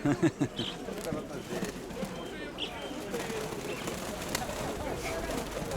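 Pigeons coo softly amid the bustle of a bird market fair in Dnipro, their low calls mixed with people chatting nearby and scattered background noise.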